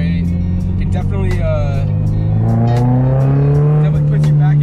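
A modified Toyota GR86 engine revs loudly from inside the car, its pitch climbing steadily under load with crackling, rasping overtones, close and dominant throughout.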